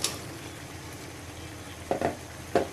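Spice paste sautéing for a silver carp curry with papaya, potato and tomato: a soft steady sizzle, close but quiet, broken by three quick stirring scrapes near the end.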